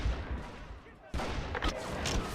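Gunfire in the western shooter game Call of Juarez: Gunslinger: a quieter stretch, then a sudden burst of shots and blasts mixed with game sounds and some talk.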